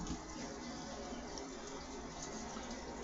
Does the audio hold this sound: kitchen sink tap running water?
yes